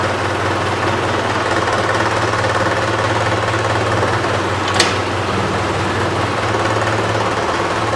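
A Mahindra 575 DI tractor engine runs at a steady idle, a continuous low diesel throb with rapid knocking pulses and one brief sharp click midway, no talking.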